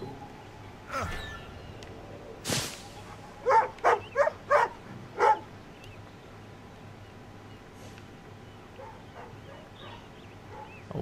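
Dog barking in the Assassin's Creed Rogue video game, four or five quick barks in a close rhythmic burst, moderately loud over quiet game ambience and scattered faint sounds.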